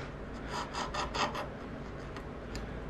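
Hand chisel paring into a wooden half-blind dovetail, a run of short scraping, rasping strokes in quick succession up close, fading to lighter scratches, with no talking.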